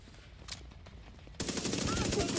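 An AUG rifle with a 25-round magazine fires in The Division, a few faint scattered shots first, then a loud, rapid run of automatic gunfire.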